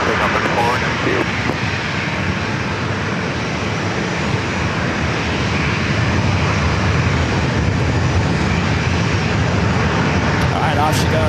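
An airliner takes off from runway 27 at San Diego airport with a loud, continuous engine roar that holds steady throughout, while a person talks over it and radio chatter is mixed in.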